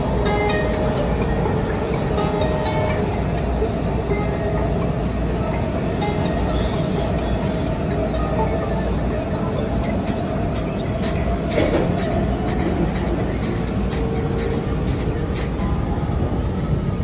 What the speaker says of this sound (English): Once in the tunnel, the train picked up speed.